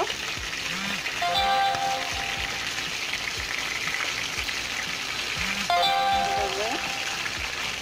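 Chicken roast pieces, just flipped, keep frying in oil over low heat with a constant close sizzling hiss, and a voice talks over it.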